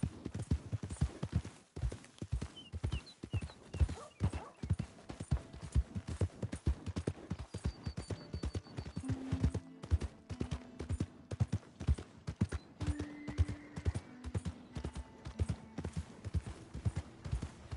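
Horse hooves clip-clop in Red Dead Redemption II, a steady rhythmic walk of crisp, close hoof strikes continuing for many seconds, with a few faint tonal game sounds scattered underneath.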